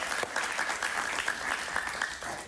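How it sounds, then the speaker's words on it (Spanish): An indoor audience at a televised political gathering gives dense, steady applause for a woman, a continuous wash of clapping that holds its level throughout. "Un aplauso para ella."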